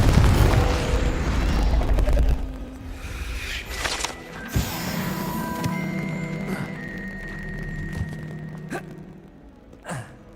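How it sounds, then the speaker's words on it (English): A Confringo blasting spell explodes in the Hogwarts Legacy video game. It opens with a heavy, booming blast that fades, followed by scattered magical chimes, thuds and effects. "Confringo."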